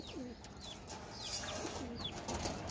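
Pigeons coo softly in a loft, a few faint, low throaty calls scattered over a background hum.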